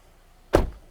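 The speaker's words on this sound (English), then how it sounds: "We'll go ahead and unlock the doors, pop the trunk and the gas cap," A single sharp mechanical clunk from a 2019 Hyundai Elantra SE as the doors unlock and the trunk and gas cap pop, brief and close, with quiet before it.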